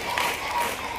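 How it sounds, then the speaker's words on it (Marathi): A short burst of loud, dense clapping from a group of children, several hands striking at once over about a second. "आता अर्ध्या पोरांनी जोरात टाळ्या वाजवल्या"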